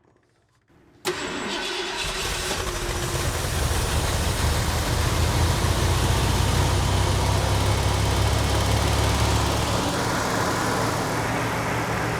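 An abandoned 4x4 Ford farm truck, left for 32 years, cranks and catches, then runs steadily at a loud, rough idle close by, with no talking.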